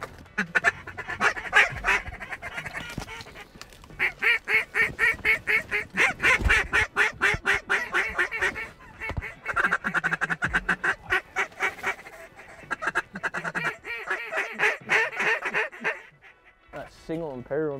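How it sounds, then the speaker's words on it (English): Many ducks calling in a steady chorus of rapid quacks on the water in front of a late-season Wyoming duck hunt blind, with a duck call or hunters' voices mixed in and a short break near the end. "We got a lot of ducks out front."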